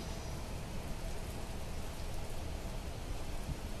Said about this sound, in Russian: Дождь опять поливает,